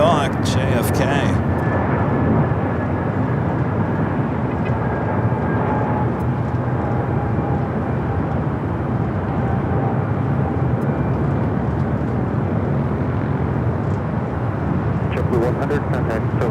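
An airliner at Los Angeles LAX airport roars with a broad, steady jet engine rumble that fills the whole stretch, close and loud, with a faint higher whine and some speech mixed in.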